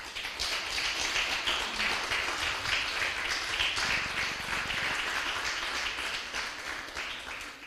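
Church congregation applauding together, a steady wash of many hands clapping at moderate volume that holds evenly from start to finish.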